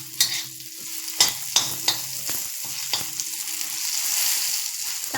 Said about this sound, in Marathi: हे आपण टोमॅटो, कांदा आणि आलं भाजून घेतले चांगलं तेलामध्ये